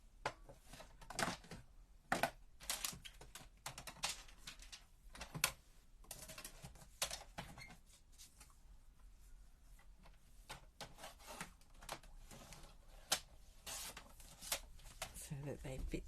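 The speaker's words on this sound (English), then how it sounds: "so I'm just going to cut that down the middle" Paper for card making, a sheet of designer series paper, being cut down the middle with scissors or a trimmer; sharp intermittent snips and rustles at close range, separated by quieter handling noise.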